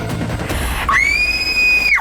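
A young woman lets out a loud, piercing scream, rated at about 96 decibels, during a Korean TV self-defense safety segment. After a short breathy lead-in, it holds as one steady, shrill cry for about a second, with no talking.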